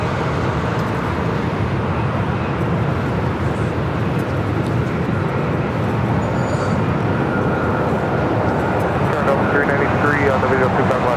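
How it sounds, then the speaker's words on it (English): An American Airlines Boeing 737-800 takes off from the south side of LAX, bound for Chicago O'Hare, a loud, steady broadband engine roar that holds for the whole stretch, with radio chatter mixed faintly underneath. "Next takeoff here on the south side is American Airlines Flight 475. This is 737-800 heading to Chicago O'Hare."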